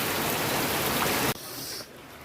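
Heavy rain pours down in a dense, steady hiss during a monsoon downpour in Kerala, with buckets set out to catch it. It is loud and close at first, then suddenly drops to a softer, more distant patter.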